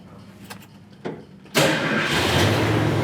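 A 1966 Ford Mustang coupe's engine cranks and fires, with a couple of faint clicks and a short cranking burst before it catches into a loud, steady idle that fills the rest of the clip.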